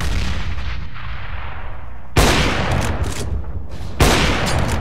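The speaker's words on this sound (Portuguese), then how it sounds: "Throwing a grenade." Grenade blasts in Counter-Strike: Global Offensive, a loud booming explosion with a long decaying rumble, followed by two more sharp heavy bursts in quick succession, no talking.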